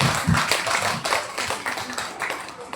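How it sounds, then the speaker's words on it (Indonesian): Scattered hand clapping rises from an audience at a mathematics community workshop, a brief uneven burst that thins out over a couple of seconds, moderately loud. "Tepuk tangan dulu untuk kita semua"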